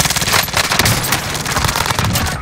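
Dense, rapid automatic gunfire from an online shooter match with a remote-control car, rattling continuously and loudly for the whole stretch with bursts overlapping.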